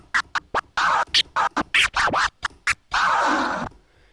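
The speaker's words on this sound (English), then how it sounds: "after that baby scratch, that slow baby scratch, you're going to do just a regular chirp scratch and let the record go" Hand-worked DJ turntable scratching on a vinyl record: a run of short, sharp scratch strokes in quick rhythm, then a longer, smoother scratch as the record is let go, loud and close with no talking.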